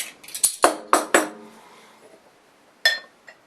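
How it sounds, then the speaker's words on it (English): Cap pried off a Troegs Trogenator Double Bock beer bottle: a quick run of sharp metallic clinks and taps, close and clear, then a short pause and one more bright clink. "we need to get the cap off this bad boy and get it in the glass"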